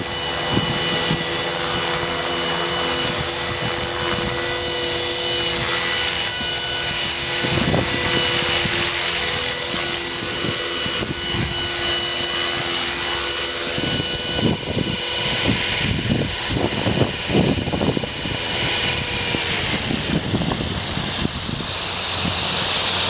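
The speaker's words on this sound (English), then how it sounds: "I think I'm going to enjoy using the governor mode on this helicopter." A small Mini Cylon RC helicopter in governor mode whines steadily at close range with a high, sustained rotor and motor tone, holding a constant pitch throughout with faint thumping underneath.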